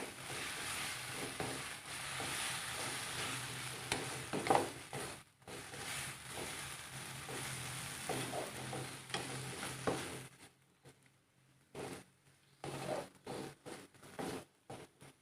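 Oyster sauce and sweet soy sauce are stirred through a shrimp and rice vermicelli stir-fry, a steady sizzle with repeated close scraping strokes of the spatula that ease into quieter, scattered stirs toward the end.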